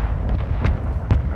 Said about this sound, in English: Who just shot a rocket at us?